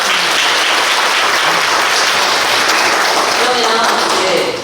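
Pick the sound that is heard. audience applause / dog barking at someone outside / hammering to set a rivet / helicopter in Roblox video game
audience applause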